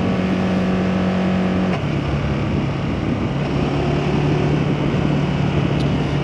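Motorcycle engine running steadily throughout while on the move, a loud continuous drone with a shift in pitch partway through, no talking over it.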